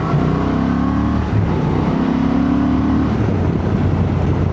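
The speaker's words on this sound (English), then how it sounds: "nice peppy little engine this" A 2025 Honda Transalp 750 motorcycle engine pulls steadily while riding, a loud continuous drone with rising and falling tonal pitch, broad wind rush throughout and no talk over it.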